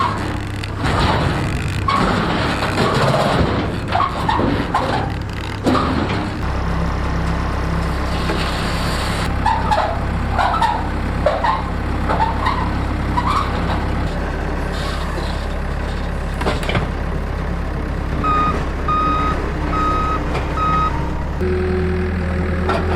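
A truck at a sawmill site, where a sycamore log is being slabbed, idles with a heavy low engine rumble, then backs up with a string of evenly spaced reversing beeps near the end, alongside clatter and a hiss like an air brake.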